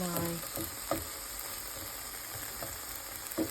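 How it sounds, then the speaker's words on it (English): Peppers and ham fry in butter in a pan with a steady, close sizzle, broken by a few light clinks and scrapes of stirring, no voices. "you want to get these just a little bit soft on the peppers and a little bit of cook on the ham"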